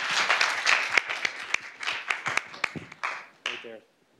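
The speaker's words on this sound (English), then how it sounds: "A round of applause for our brave first." Scattered clapping from an audience, uneven and fairly close, tapering off near the end with a few last claps.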